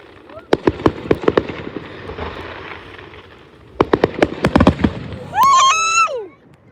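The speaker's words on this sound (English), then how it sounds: "fireworks are basically exploding rockets" Canada Day fireworks show: loud, sharp bursts in two rapid volleys of cracks and booms, then people cheering and exclaiming with a whistling call at the end.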